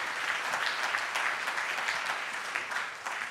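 Steady, dense applause from an audience at a prize ceremony for the winner of a local business award, sustained and even throughout with no voices over it.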